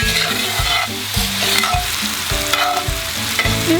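Apple pie filling with sugar and a teaspoon of vinegar cooking down in a pan over a campfire, with steady sizzling and repeated stirring scrapes in a regular rhythm, close and fairly loud, with no talking.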